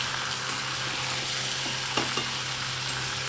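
Chicken being stirred into fried masala in a pan for a home-style country chicken curry, with a steady soft sizzle and a few scraping stirs of the spoon.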